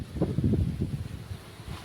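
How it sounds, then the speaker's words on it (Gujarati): Steady gusting wind buffeting the microphone outdoors on a farm, a low rumbling roar that swells and eases without pause. "વાડીએ હાવ પવન ફૂલે ફૂલ હોય છે હો ભાઈ"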